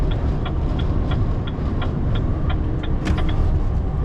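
A car drives along a Ukrainian road at speed, a loud steady engine and road rumble with repeated faint ticking clicks across the cabin and a brief squeak near the end, with no talking.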